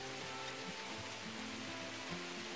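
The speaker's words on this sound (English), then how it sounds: "It's raining a lot." Steady rain falls on a mountain trail in the Adirondacks, a dense, even hiss of drops hitting foliage and ground, close and continuous with no voices.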